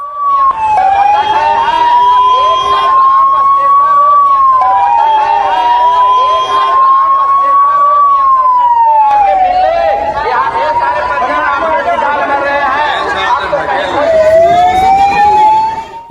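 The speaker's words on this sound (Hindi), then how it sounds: "मौके पर एम्बुलेंस बुलाई गई, एम्बुलेंसेस दौड़ना शुरू हुई अशोक धाम से अस्पताल की तरफ" Ambulance sirens race from a temple stampede site at Lakhisarai, Bihar toward the hospital. The loud, continuous wailing rises and falls close by, with a busy crowd murmuring underneath.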